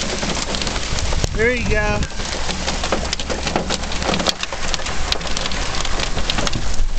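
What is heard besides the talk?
hailstones falling in a thunderstorm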